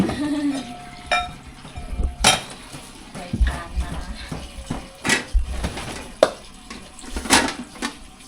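Tap water running while dishes and bowls are washed by hand, with intermittent splashes, clinks and knocks of crockery close by, some louder than others.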